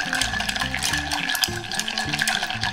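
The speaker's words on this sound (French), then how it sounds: "Tu remues avec de la glace" Ice clinks and rattles as a cocktail made with amaro and Angostura bitters is stirred in a glass, a busy rhythmic tinkling close up and fairly loud with no talking.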